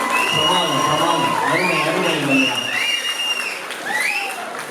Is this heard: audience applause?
yes